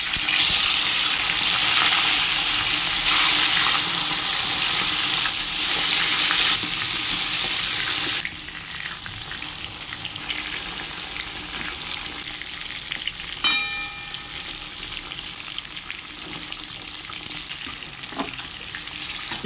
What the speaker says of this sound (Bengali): তেল গরম হয়ে গেছে, মাছগুলো আমি একা একা ভেজে নেব।